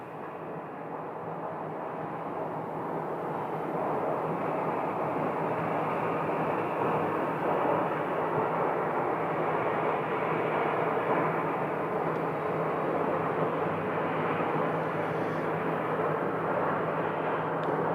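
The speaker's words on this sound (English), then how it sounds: "Frontier Airlines 25 right, Airbus landing right there." An Airbus of Frontier Airlines lands on runway 25 right at Phoenix Sky Harbor Airport, a broad steady jet roar that swells in the first few seconds and then holds loud and even throughout.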